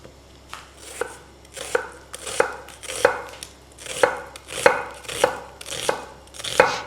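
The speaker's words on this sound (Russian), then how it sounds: "Перец мы нарезаем соломкой, а лук нарезаем полукольцами." A knife chops bell pepper steadily on a cutting board, about a dozen crisp, evenly spaced strokes close up with no talking.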